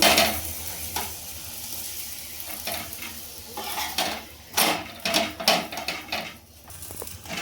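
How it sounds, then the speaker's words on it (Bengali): Aloo paratha, a potato-stuffed flatbread, frying in a little refined oil. A steady soft sizzle runs beneath intermittent scraping and stirring clatter from a utensil against the pan, with several louder bursts near the end. "আমি অল্প অল্প তেল দিয়ে ভেজে নেব।"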